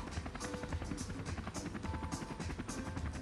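Helicopter filming a pro cycling race from above, its steady rotor chop and engine whine forming a continuous loud rumble throughout with no voices.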